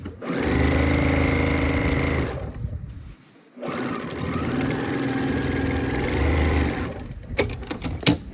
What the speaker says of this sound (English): last part is to sew along that bottom, like I said.